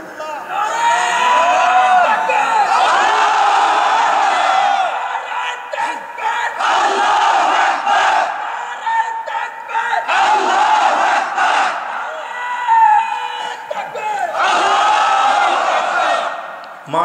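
A large crowd at a religious gathering chanting the takbir slogan, loud rhythmic shouted bursts in repeated waves separated by short pauses.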